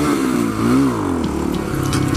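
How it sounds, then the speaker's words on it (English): Motorcycle accelerating hard in second gear into a wheelie on a city street, its engine roaring loud and close with a rising then steady tone and no talking. "that was a wheelie in second that made me almost lose control and die"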